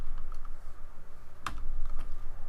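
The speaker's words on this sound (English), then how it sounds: "I'm going to type the vectors." Fingers tap steadily on a computer keyboard while coding, a close run of soft, irregular key clicks with a couple of sharper, louder keystrokes, no talking.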